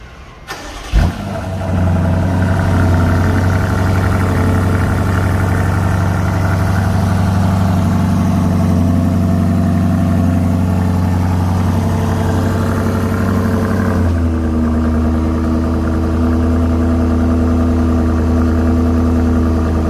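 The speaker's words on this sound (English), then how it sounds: "I can do a remote engine start, cold start for you guys." A 2022 BMW X7 M50i engine cranks on a remote cold start and fires up, then settles into a steady, loud idle with a deep hum; the idle drops slightly lower partway through.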